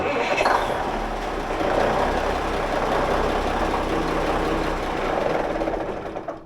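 An expedition boat's engine cranks and then runs, a steady mechanical chugging drone with a rhythmic knock that holds close and loud throughout, without talk.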